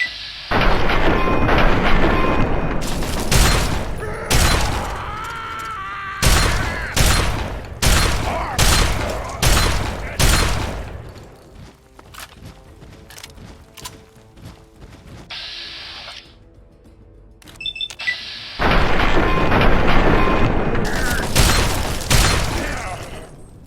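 Loud combat shotgun blasts from Fallout 3 fire in rapid bursts with sharp repeated reports, then pause during a quieter stretch and resume in a dense barrage.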